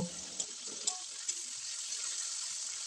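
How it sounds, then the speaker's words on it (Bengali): Chopped onion fries in oil for a rui fish dopyaza, giving a steady close sizzle with a few soft stirring clicks and taps. "প্রথমে দিয়ে দিলাম পেঁয়াজ কুচি। পেঁয়াজটাকে একেবারে লাল লাল করে ভাজবো না, একটু কম ভাজবো।"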